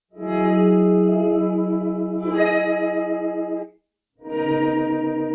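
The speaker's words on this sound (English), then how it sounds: "I can show you what drift sounds like when I have it all the way up on reverb." Sustained, organ-like guitar chords through a Microcosm and Chroma Console, drenched in heavy reverb with slow wavering drift modulation, played loud, pausing briefly before another swelling chord.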